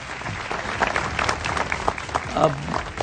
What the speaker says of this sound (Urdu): ایک دم آڈینس ذرا تالیاں بجا کے اپنی موجودگی کا احساس دلا دے ذرا ہمیں بھائی